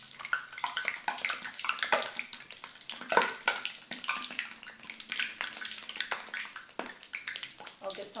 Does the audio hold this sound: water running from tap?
yes